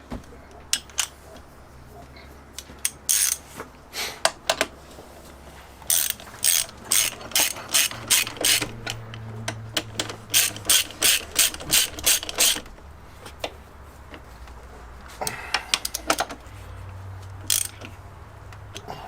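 A ratchet tightening motor mount bolts on a VW MK4 TDI Jetta, loud close bursts of rapid clicking strokes in several runs with short pauses between them, no talk.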